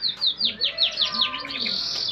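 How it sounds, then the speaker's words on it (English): A canary in a cage at an open-air museum chirps and trills in rapid repeated bright notes, close and steady, with soft background sound beneath. "Beautiful little canary."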